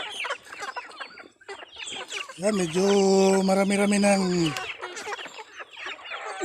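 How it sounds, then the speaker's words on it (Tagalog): Chickens on a farm cluck around the feeding spot, a dense chorus of close clucks with one prolonged loud squawk in the middle, while a person talks over them. "Sinusundan tayo ng mga manok natin."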